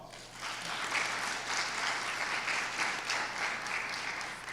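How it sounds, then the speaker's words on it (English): A seminar audience applauds in a broad, steady wash of many hands clapping, fairly faint and distant, holding evenly throughout with no one speaking. "Let's give them a round of applause."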